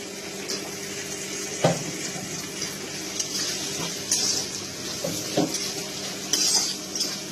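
Chopped tomato sizzling and frying in a spice masala in oil, with scattered stirring scrapes and clinks of a utensil against the pan; steady close frying hiss, no voices.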